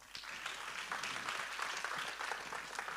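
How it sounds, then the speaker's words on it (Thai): Quiet, steady applause from a storytelling stage audience welcoming the next speaker, many hands clapping together in an even, distant-sounding wash. "ขอเชิญทุกท่าน ปรบมือต้อนรับ"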